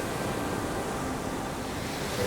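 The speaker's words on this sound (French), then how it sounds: "C'est qu'il y a pas mal de vent aujourd'hui." Steady, blustery wind at the water's edge by the sea, with a broad continuous rush and a low surf-like roar throughout and no break in the noise.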